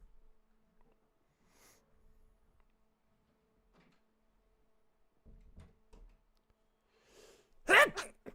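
A single loud, sharp sneeze bursts out near the end, after quiet stretches with faint voices and small knocks during an online game session.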